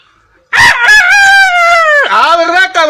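A rooster crows loudly and close, one long drawn-out call with a falling end and a short tail, alone after a quiet start.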